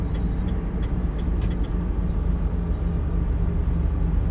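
Heavy truck engine droning steadily as the driver brakes with the retarder on a route through Waddinxveen toward Amsterdam Westpoort, a constant loud low rumble with no talk.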